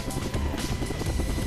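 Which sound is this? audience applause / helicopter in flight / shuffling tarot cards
helicopter in flight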